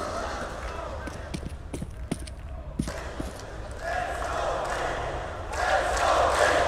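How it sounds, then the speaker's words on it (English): At a CS:GO major match in an esports arena, crowd noise rises from a murmur into swelling cheers toward the end, mixed with sharp in-game clicks and thuds and a commentator talking over it. "Oh, now the crowd are coming to life."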